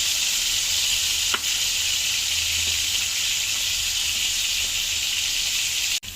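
Potatoes fry in a pan with a loud, steady sizzle and hiss that runs unbroken throughout, a few faint stirring knocks under it, up close and with no voices.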